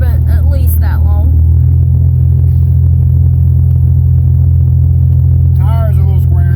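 An old GMC OBS pickup truck cruising on its first drive in at least four years, a loud, steady low engine rumble and road drone with interior cabin noise, with a voice speaking at the start and end.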